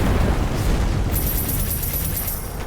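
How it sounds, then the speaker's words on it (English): A loud dynamite blast from Strange Brigade erupts at once and rolls into a broad, rumbling decay lasting a couple of seconds, with no speech. "Dynamite out! Fire in the hole!"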